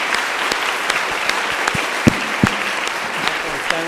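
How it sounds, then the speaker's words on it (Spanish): Audience applause in a conference hall at a forensic genetics plenary, honoring Dr. Rangel as he receives an award; steady clapping from a crowd throughout, with a few sharper nearby claps and faint voices underneath. "un aplauso al doctor Rangel."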